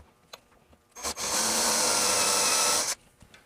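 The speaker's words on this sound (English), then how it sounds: "I got one hole drilled" A power drill fitted with a 90-degree attachment bores a hole in wood for a side table near a pipe, a single continuous whirring burst of about two seconds after a few faint taps.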